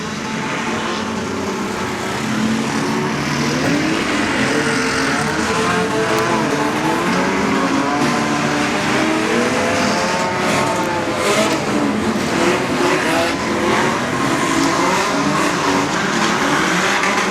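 A field of superstock race cars accelerates away from a standing start at a Wellington speedway, engines roaring loud and sustained with rising, overlapping revs and some tire noise, and no talk.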